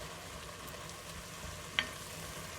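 Bell peppers stew gently in a pan for poulet basquaise, a faint, steady sizzle and simmer with a single soft clink of a utensil partway through, and no voices.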